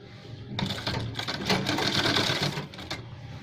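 A sewing machine stitches a shirt sleeve seam in one close burst lasting about two seconds, a rapid rattling needle chatter that starts abruptly and stops, with quiet before and after.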